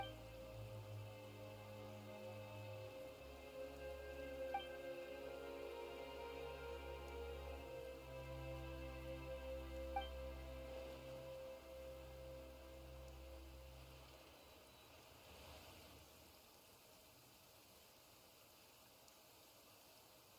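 Rain falls in the Genshin Impact video game as a faint, steady patter of drops over a low sustained musical drone, quiet throughout and tapering slightly toward the end, with no one speaking.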